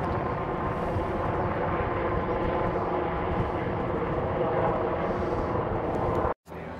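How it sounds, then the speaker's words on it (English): A search and rescue helicopter hovers over a beach, giving a continuous loud, broadband rotor and engine roar that holds steady throughout before a brief cut near the end. "there is a rescue helicopter"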